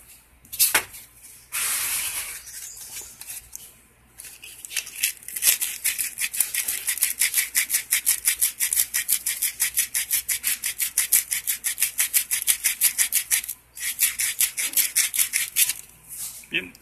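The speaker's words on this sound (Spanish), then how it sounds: "entonces vamos a lijarlo" Steady rhythmic rasping of sandpaper scrubbed back and forth over a corroded, greasy metal gas stove valve stem, close and continuous, with a few brief pauses between strokes.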